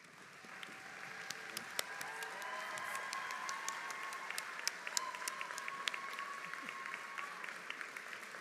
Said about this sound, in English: You deserve a big round of applause for the excellent work you do.